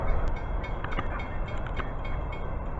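An Amtrak passenger train rolls past in a steady, loud rumble with faint rhythmic clicks of wheels on rail and no one talking.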